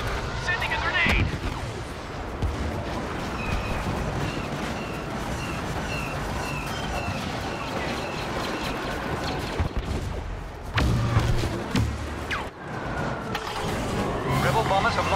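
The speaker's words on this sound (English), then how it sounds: "Sending a grenade!" Star Wars Battlefront Walker Assault battle with grenade blasts and dense gunfire, heavy rumbling explosions and blaster shots layered continuously, a loud burst near the end, with voices speaking over the battle.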